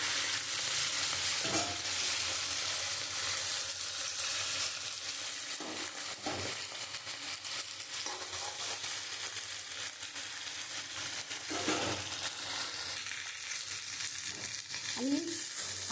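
Chopped ginger fries with potatoes and eggplant in hot oil, giving a continuous crackling sizzle, with a few spoon scrapes and stirs scattered throughout.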